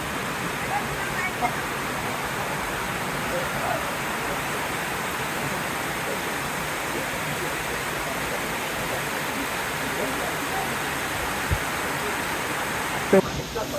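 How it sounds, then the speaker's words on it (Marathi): A constant, even roar of falling water from waterfalls all around fills the whole stretch, broad and unbroken, in rainy season at Marleshwar. "चारही बाजूला धबधबे"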